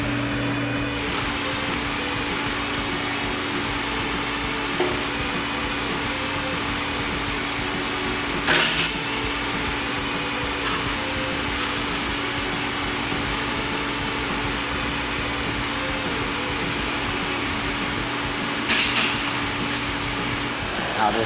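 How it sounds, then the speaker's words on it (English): A torch roars steadily, burning tar off the steel mounting plate for the electric seat of a 1954 Packard Cavalier, a continuous close hiss with a couple of brief flares and no talk. "Now just burning off the tar from the mounting plate for the electric seat in the Packard."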